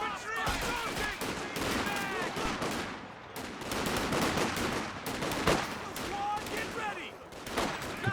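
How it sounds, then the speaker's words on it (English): Dense battlefield gunfire from Company of Heroes 2, with rapid machine-gun bursts and scattered shots rolling continuously over about eight seconds, mixed with in-game unit voice callouts throughout. "Machine gun getting some nice suppression in there"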